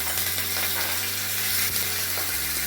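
Mustard seeds and curry leaves sizzle and crackle steadily in hot mustard oil in a pan, a continuous close frying hiss with small pops and no talk.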